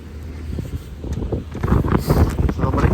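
Strong cold wind blowing outdoors, buffeting the microphone in rough, rising gusts with a low rumble that grows louder toward the end.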